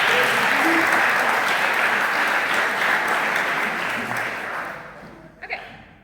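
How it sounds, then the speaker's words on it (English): An audience welcoming Bianca, a guest on the second day of a sports science students' event, breaks into steady, sustained applause that fills the room and then fades out, ending with a few scattered final claps. "You can give her a round of applause"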